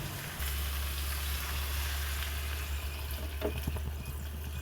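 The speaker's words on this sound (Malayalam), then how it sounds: "ഞണ്ട് വേകാനുള്ള വെള്ളം ഇതിലേക്ക് ഒഴിച്ചു കൊടുത്താലായി." Water is poured into a pan of crab pepper curry for cooking the crab, making a steady, even wash of pouring and splashing that keeps going throughout, close and moderately loud.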